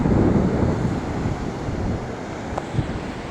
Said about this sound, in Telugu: చాలా స్పీడ్గా వస్తున్నాయి అలలు, వేగంగా వస్తున్నాయి